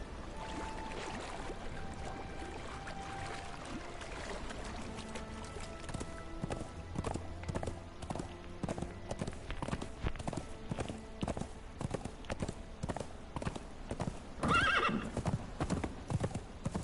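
Horse hooves clip-clop steadily in the video game Conan Exiles, a rhythmic run of hoofbeats with a brief neigh near the end, against a faint ambient game backdrop.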